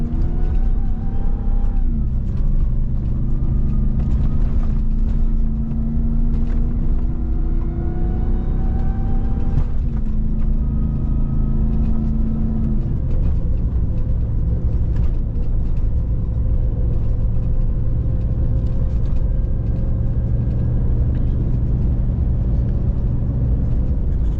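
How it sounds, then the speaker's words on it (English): A 2021 Ram TRX pickup runs at high speed along an off-road trail, its engine droning loud and constant throughout with shifting pitch as it accelerates and eases off, and no voices. "this is going to be kind of high-speed stability with the truck for the POV video"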